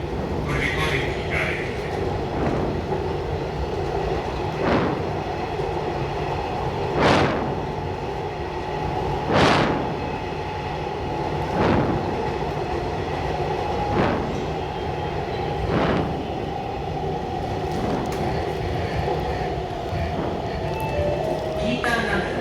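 A Kanpur Metro train runs along the track, heard from on board as a steady rumbling drone punctuated by regular sharp clacks every couple of seconds, loud and close, with speech underneath.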